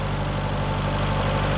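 A Kubota L4060 tractor diesel engine idles in a field, giving a close, steady low rumble with no variation over the short stretch.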